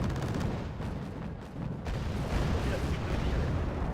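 Heavy, continuous booming gunfire from large naval cannons in Wargame: Red Dragon, dense and rumbling throughout, like a sustained naval bombardment.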